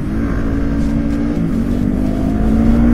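Loud motorcycle exhaust with a continuous engine drone and a slowly rising pitch as it revs up steadily, close and unbroken for the whole stretch.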